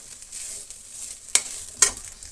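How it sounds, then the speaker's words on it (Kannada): Grated coconut being stirred into beetroot palya in a hot pan: a soft, quiet sizzle punctuated by two sharp scraping strokes of the spatula, with no voices. "ಈ ಕಾಯಿ ತುರಿನ ನೀಟಾಗಿ ಮಿಕ್ಸ್ ಮಾಡ್ಕೊಳ್ಳೋಣ"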